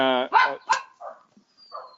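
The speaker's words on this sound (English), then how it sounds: "My dog's barking." A dog barks nearby, a few sharp barks and yips in quick succession that fade into quieter, more distant sounds, with a voice briefly at the start.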